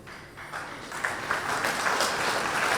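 Congregation at a spiritual discourse clapping together, a dense patter of hands that grows louder after the first second and holds steady, no speech over it.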